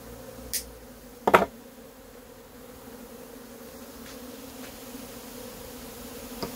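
A swarm of native Korean honeybees, caught in the evening, is being set into a hive. Their buzzing forms a steady, fairly faint hum throughout, broken near the start by a couple of sharp knocks.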